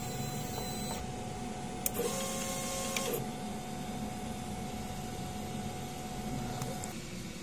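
A DTF printer runs after a head clean with a quiet, steady mechanical hum, and a few faint clicks and short whirring passes sound close by.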